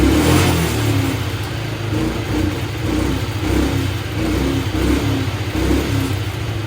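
A Can-Am DS 90X ATV engine idles after a carburetor rebuild, a continuous close mid-pitched putter that swells slightly and settles, with no talking.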